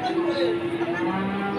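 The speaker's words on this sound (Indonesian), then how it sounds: "Salah satu sapi si metal power dari Bangkel, yang Bangkel ini." Cattle at a livestock market in Blora, Central Java, with a low, drawn-out moo under steady crowd chatter and background market noise.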